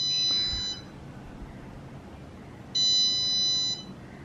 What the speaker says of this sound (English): now the left earbud is actually ringing